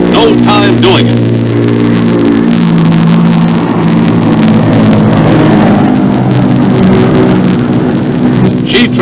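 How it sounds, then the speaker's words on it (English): The Convair B-36 Peacemaker strategic bomber climbs under its piston and jet engines, producing a loud, steady, droning roar with layered low tones and no break throughout. "with the extra thrust of those jet engines behind her, she wastes no time doing it."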